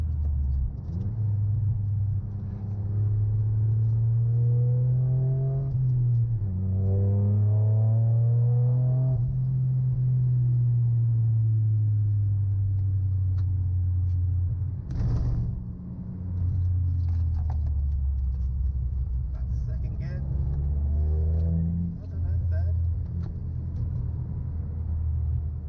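A Toyota GR Yaris lapping the wet Anglesey circuit, its engine droning steadily with rising and falling pitch through gear changes and throttle lifts, a constant rumbling in-car tone across the whole run.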